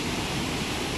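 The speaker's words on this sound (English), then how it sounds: "especially the sound of the water is so pleasing" Waterfall water splashing and pouring steadily at the Dubai Water Canal in the evening, a dense continuous rush heard close and fairly loud with no pauses.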